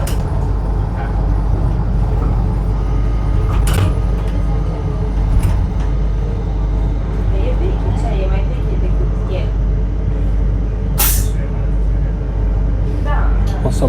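Riding a city transit vehicle through the historic center of Bucharest, Romania, with a steady low engine and road rumble throughout, occasional rattles and clicks, and a person talking over it.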